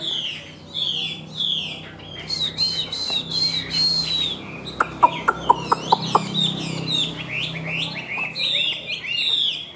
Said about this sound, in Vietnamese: chim rất là đẹp mà hot thì rất tốt luôn